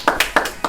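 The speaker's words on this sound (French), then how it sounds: "Arthur, félicitations. Nous pouvons t'applaudir." Three separate handclaps ring out alone in a short burst, spaced unevenly, as the audience at a French school tech-show competition starts applauding Arthur for the fastest structure build.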